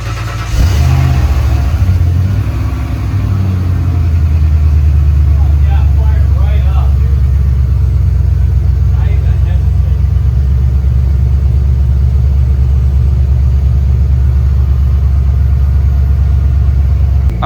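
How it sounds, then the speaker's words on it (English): A Ford Bronco truck engine runs steadily just after start-up, a loud continuous low rumble that holds throughout, with brief chatter of voices partway through. "we got both trucks fired up"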